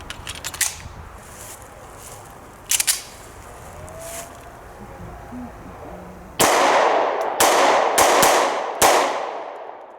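A Taurus G3C pistol fires Winchester 115 grain steel case ammunition, with four or five sharp, loud shots in quick succession after a few quieter clicks and clacks.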